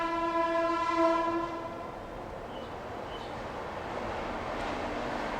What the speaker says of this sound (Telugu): ఈ ట్రైన్ సౌండ్లు మాత్రం తినేస్తాయి మన.